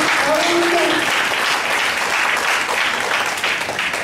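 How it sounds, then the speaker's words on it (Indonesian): A church congregation applauds during a sermon, loud continuous clapping filling the room with a brief voice heard early on. "Yang sudah selamat boleh beri tepuk tangan kepada Tuhan."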